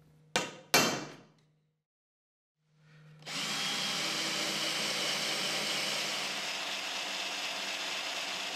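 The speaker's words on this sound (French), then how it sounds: "Poinçonnez les trous et puis forez." Holes are punched and then drilled into metal furniture tubing: two sharp taps ring out near the start, then after a short pause a power drill spins up and runs steadily and loudly to the end.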